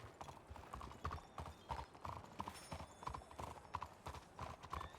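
A small horse in a western video game clip-clops along at a steady walking rhythm, hooves close and even, with a faint mechanical jingle underneath.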